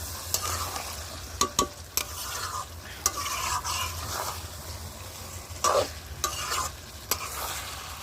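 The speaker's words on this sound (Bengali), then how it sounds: "মাংসটা কষিয়ে নিচ্ছি" Chicken pieces are slowly stirred and fried in a pan, a continuous close sizzle broken by a series of sharp spoon clanks and scrapes against the metal every second or so, without any voices.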